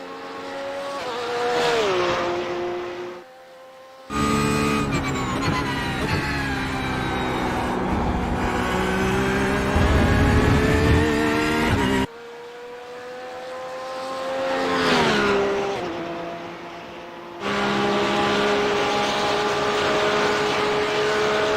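GT3 race car on a hot lap at Watkins Glen in iRacing, engine howling loudly and rising through the gears, with sharp cuts on upshifts and deep drops under braking, close and continuous with no talk.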